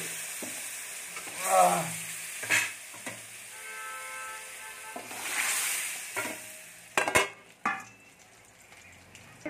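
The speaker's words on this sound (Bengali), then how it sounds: "সবজিটা ঢেলে নেবো" Flat beans, eggplant and drumstick pieces hit a hot pan and sizzle, with bursts of frying hiss, stirring scrapes and clinks rising and fading over several seconds.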